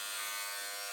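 Electric hair clippers fitted with a half-inch guard cut hair during a home self-haircut, a steady high buzzing drone, close and continuous, with no talk.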